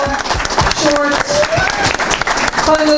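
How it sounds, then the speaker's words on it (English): An audience applauds a speaker at an event on including persons with disabilities in international development, scattered clapping mixed with overlapping voices talking throughout. "And she also deserves an applause"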